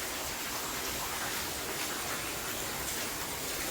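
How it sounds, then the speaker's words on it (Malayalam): Heavy rain pours outside, a steady, even hiss with no distinct drops, faint and constant throughout, with no voices. "വമ്പം മഴയാട്ടോ പുറത്ത്."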